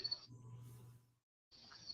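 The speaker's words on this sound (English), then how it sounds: "I hear the And crickets." Crickets chirping outdoors give a faint, steady high trill that fades out midway, leaving a low rumble, then returns near the end.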